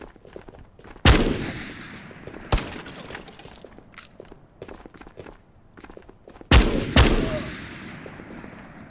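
Streetsweeper shotgun in the video game Ghosts of Tabor firing indoors: four loud, sharp blasts, spaced unevenly with the last two close together, each trailed by a short, boomy room echo.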